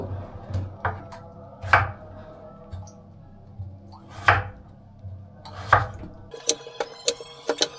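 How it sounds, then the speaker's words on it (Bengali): A knife chops through hard, peeled potatoes on a cutting board, slicing them into French fry pieces: irregular sharp thuds spaced a second or so apart, then a quicker burst of crisp cuts at the end, close and clear. "আমাদের আলু ছেলানো হয়ে গেছে, এবার এগুলোকে পিস পিস করতে হবে, ফ্রেঞ্চ ফ্রাইয়ের আকারে দিতে হবে"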